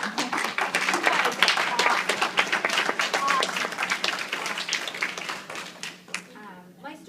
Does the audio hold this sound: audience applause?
yes